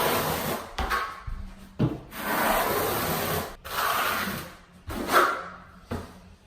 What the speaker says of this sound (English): Now I'm just going to take my trowel, pull it out to the edge.